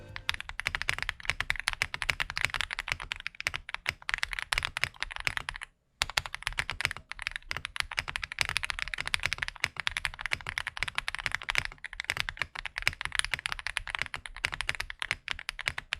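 Steady, fast typing on a mechanical keyboard fitted with Akko CS Piano switches, a dense run of close, crisp keystrokes with one brief pause near the middle and no talking.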